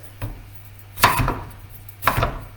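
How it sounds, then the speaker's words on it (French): A knife cuts yellow bell pepper into small dice on a board, giving three separate close thunks, the last two heavier and spaced about a second apart, with no talking. "je prends du poivron jaune, et poivron jaune, je le fais en tout petit, on va en faire des petits dés"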